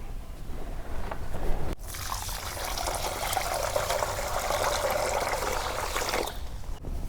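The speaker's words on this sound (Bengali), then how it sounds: "তো চালগুলো এখন আমি ভিজে রাখি।" Water pours into a vessel of small-grain rice for beef biryani, a close, full splashing gush lasting several seconds, with a quieter wash of sound before and after.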